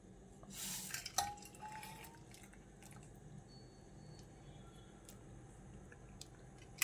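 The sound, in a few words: herbal tea decoction being strained through a strainer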